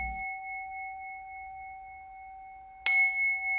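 A single bell rings to open a Buddhist meditation, its sustained pure tones hanging steadily in quiet before a sharp bright strike near the end adds a fresh ring.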